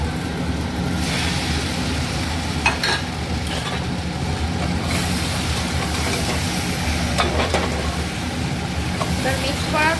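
Fried soybeans are tossed into chilli sauce in a hot pan, a loud continuous sizzle with scraping and rustling stirring throughout, close and unbroken, no speech.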